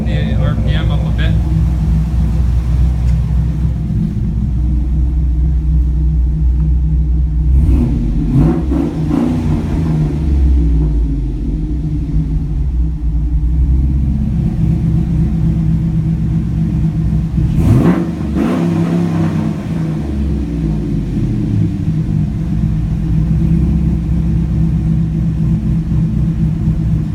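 A 2004 Chevrolet Colorado with a swapped 5.3L V8 and stage 4 cam runs with a steady, loud low rumble as the revs are held up, the engine droning continuously with slight swells.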